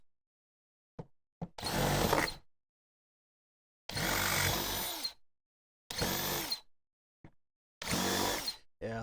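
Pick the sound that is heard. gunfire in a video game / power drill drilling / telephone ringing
power drill drilling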